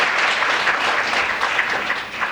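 Audience at an international youth peace conference gives a speaker a big round of applause, steady dense clapping filling the room throughout at an even level.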